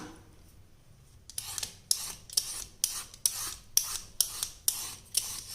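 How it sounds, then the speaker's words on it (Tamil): A hand peeler shaves the skin off a raw plantain in rhythmic scraping strokes, about nine close, crisp rasps in a steady rhythm, after a quiet start with no talking. "இந்த மாதிரி பீலர் வச்சு சீவும்போது கரெக்டாக தோல் மட்டும் நமக்கு இந்த மாதிரி வந்துடும்"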